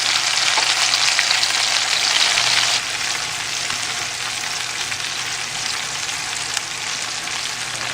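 Chopped onion softening in hot bacon fat in a pan for a quiche gives a steady, loud, close frying sizzle. It eases slightly in level partway through and carries on without a break.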